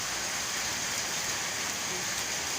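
Heavy rain pours down in a constant, dense patter on surfaces, a steady wash of sound with no breaks across the whole stretch.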